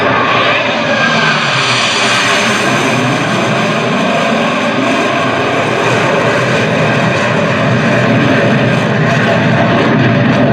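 Loud, steady engine roar of four aircraft flying in formation at the MCAS Miramar air show, a continuous broad rumble that holds near and powerful throughout.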